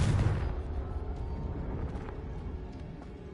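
A Confringo blasting spell in Hogwarts Legacy goes off with a heavy explosive rumble that starts loud, decays into a low roiling tail and carries faint crackles.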